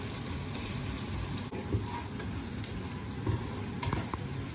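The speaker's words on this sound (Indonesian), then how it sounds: "saya setiap bikin masakan saya selalu agak lama ya menggoreng bawang merah, bawang putihnya" Shallots and garlic frying in a pan, a steady dense sizzle with crackles and occasional stirring scrapes, close and continuous, with no talking.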